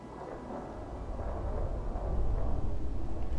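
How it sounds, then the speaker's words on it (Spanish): A foggy thunderstorm in Fallout 4 rumbles as a low, continuous roll of thunder that slowly swells in loudness across a few seconds. "Muy diferente la tormenta aquí con la neblina."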